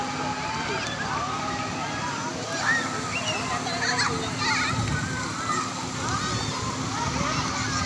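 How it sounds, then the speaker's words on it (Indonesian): Artificial waves wash through a water park pool, a steady splashing and rushing wash heard under children's voices and chatter nearby. "Ini ada ombaknya nih, ombak buatan."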